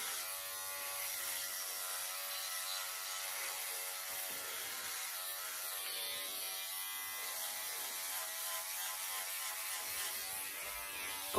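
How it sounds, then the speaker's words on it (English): A Philips OneBlade electric razor buzzes while shaving against the grain, a steady close-up motorized hum with a rasping edge as it moves across stubble, continuous and alone for over ten seconds. "All right, let's go do the other side. Shaving against the grain."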